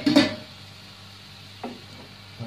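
Beetroot thoran being stirred in a pan, a sharp scrape and clatter at the start followed by two softer stirring knocks over a faint background hiss.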